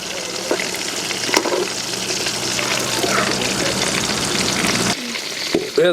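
Chicken pieces for homemade KFC-style fried chicken crackle loudly in hot oil over a high flame, a dense continuous sizzle that drops away near the end.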